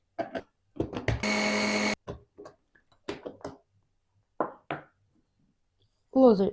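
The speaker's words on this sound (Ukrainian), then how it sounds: "І це все потрібно перебити через блендер." A blender whirs loudly for about a second in one short burst, blending egg pâté, with someone talking before and after.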